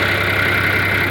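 A 1971 John Deere 4320 tractor engine idles with a steady, loud, close-up rumble and a constant mechanical hum, without pauses for the whole short moment.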